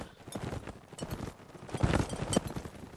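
Horses trotting in a video game, rapid overlapping clip-clop hoofbeats from several mounts in an uneven rhythm, fairly close and growing slightly louder toward the end.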